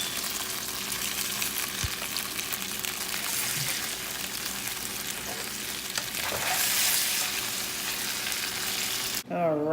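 Stuffed ribeye chops fry in a pan with a loud, continuous close sizzle and crackle, swelling slightly near the end before a brief clatter, with no talking.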